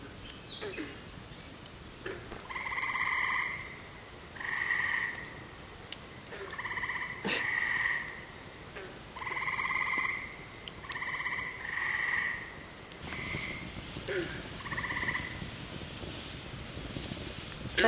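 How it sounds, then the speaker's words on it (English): Bullfrogs croak repeatedly in a pond at dusk in Woodstock, New York, deep resonant calls in rhythmic bursts over a quiet outdoor background with faint rustling. "as it got dark, we got to hear the bullfrogs that were in the pond"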